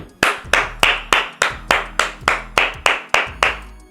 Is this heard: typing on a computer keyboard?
no